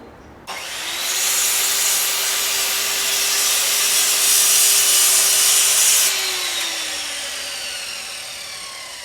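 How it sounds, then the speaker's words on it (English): A power tool trims a curved edge on the front corners of wooden shelves, making a loud, continuous whirring cut that starts abruptly, holds steady for several seconds, then winds down. "Now I can trim the shelves."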